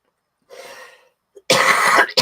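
Two coughs close by: a softer, breathy one first, then after a brief pause a louder, harsher cough followed by a quick short one.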